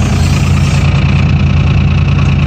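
A 2001 Dodge Cummins 24-valve diesel pickup sits at high idle in three-cylinder mode after a cold start, its loud, close, rough, lumpy rumble chugging steadily and alone, with no talking.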